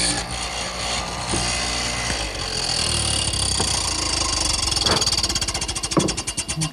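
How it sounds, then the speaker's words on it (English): A wooden mortise for a bed headboard is widened with a power tool: a loud, rough, chattering machine roar that grows more rhythmic and pulsing toward the end, with sharp knocks scattered throughout. "Now I'm going to turn it around and widen the mortise."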